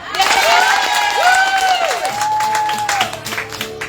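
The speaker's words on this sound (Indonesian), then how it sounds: "Tepuk tangan dulu deh." A church congregation at an outdoor women's worship service breaks into loud, sustained applause and cheering, with singing or vocal tones carrying over the clapping.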